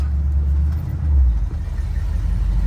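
A car engine running rough idles with a low, steady rumble up close, its pitch wavering slightly as it runs.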